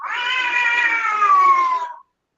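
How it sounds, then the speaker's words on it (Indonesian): One drawn-out, loud cat meow lasting about two seconds, close and clear, ending abruptly into silence. "Apa itu? Kucing ya?"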